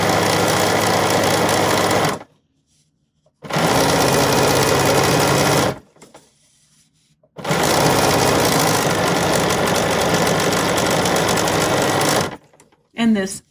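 BERNINA sewing machine topstitching a bag handle with Edgestitch Foot #10, loud steady whirring stitching bursts of several seconds separated by brief pauses, ending in a short final burst.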